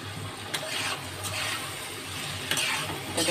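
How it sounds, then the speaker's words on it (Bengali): Mustard and green chilli paste is stirred in a pan, a wet sizzling hiss with scraping strokes and a few sharp clicks of the spoon against the metal. "এটাকে ভালো করে নেড়ে নেব"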